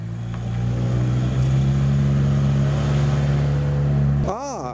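A Mitsubishi Evo idles close by with a steady, deep engine drone and a strong low hum. Near the end the revs rise and fall sharply as it rolls out at a classic car meet in the rain.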